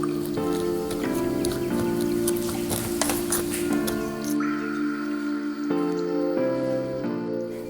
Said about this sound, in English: And then we're going to give it a beautiful